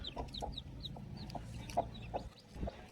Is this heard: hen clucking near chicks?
yes